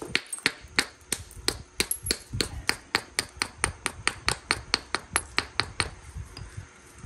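A hammer stone strikes a piece of Sonora chert during flint knapping, giving about two dozen sharp, clicky taps in a quick, steady rhythm, close and crisp against a quiet background.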